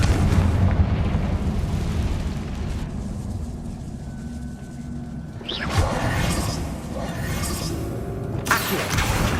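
A Confringo fire spell exploding in the wizarding game Hogwarts Legacy: a rushing, rumbling blast with a bright whoosh, followed by fading crackle and a second burst near the end.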